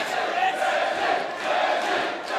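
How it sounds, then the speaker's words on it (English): A crowd at a Cage Warriors MMA event chants rhythmically in swelling, repeated waves, a dense arena roar carrying throughout with no commentary on top. "the crowd here chanting Desi, the affectionate nickname for Kris Edwards"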